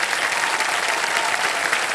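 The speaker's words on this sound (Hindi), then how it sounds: "ताली बजती रहे इनके लिए।" Studio audience applauding on the quiz show Kaun Banega Crorepati, a steady, dense burst of clapping filling the room for two seconds with no voices over it.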